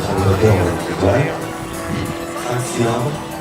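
A large model aircraft with a Motif 215 cc five-cylinder radial engine and a 3.40 m wingspan flies at an aerodrome air show, its loud, steady engine drone rising and falling throughout while someone talks over it.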